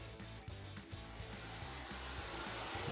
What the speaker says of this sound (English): Make sure that the hairdryer is always directing upwards to help give the lift.